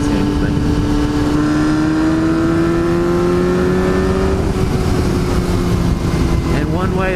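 A Yamaha R6 motorcycle engine revs hard through its exhaust, a loud continuous whine that climbs steadily in pitch and then wavers near the end, with wind rush and a voice talking over it.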